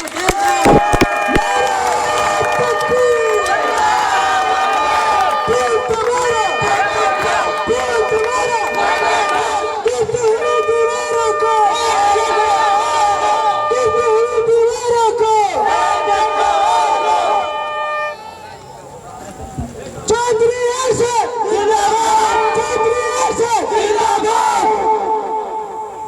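A large crowd at a public gathering loudly shouting and cheering together in sustained, chant-like waves as a speaker is welcomed to the stage, with a brief dip before the roar resumes.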